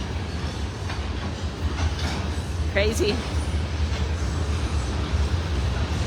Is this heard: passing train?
yes